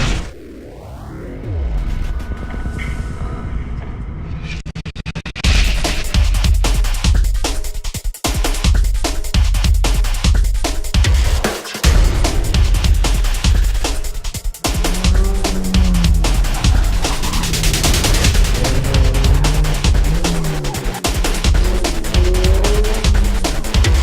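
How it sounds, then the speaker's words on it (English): Autocross race cars run a course at Road 10, Navotas, during a Philippine Autocross Championship round: loud engines rev and roar past one after another, with whooshing passes and bursts of tire squeal. "We were there enjoying the sights and sounds of another exciting autocross race."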